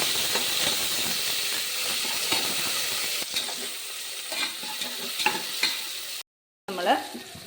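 Curry leaves are sautéed in a hot pan for a beef curry, producing a loud, steady, hissing sizzle with occasional scraping stirs. The sound drops out briefly near the end, then returns.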